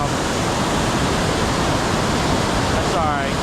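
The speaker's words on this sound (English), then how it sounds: "This water's super loud." Loud, steady rushing water of the Tiger River at Valley Falls pours continuously through the whole stretch, a dense broadband roar close by with no pauses.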